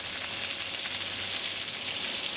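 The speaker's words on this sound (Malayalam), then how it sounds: "ഇതിലേക്ക് എടുത്തു വെച്ചിരിക്കുന്ന കടുക് ഇട്ട് കൊടുക്കാം." Mustard seeds sizzle in hot oil in a pan for Onam Sadya parippu dal curry, giving a steady, soft crackling hiss with faint pops and no talk.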